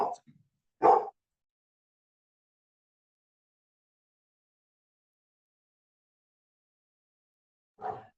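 A pet dog barks indoors in a few short, sharp bursts: two quick barks at the start, then silence, then one more bark near the end.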